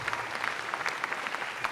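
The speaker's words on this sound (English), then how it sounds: "And that's worth applause." Audience applause at a juggling association award show, a steady patter of many hands clapping fills the room, moderately loud, with no talk over it.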